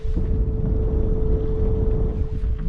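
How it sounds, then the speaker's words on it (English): A newly installed fan runs aboard a sailboat, giving a steady, close, continuous hum with one constant tone over a broad rushing drone that holds level throughout. "I installed a new fan here."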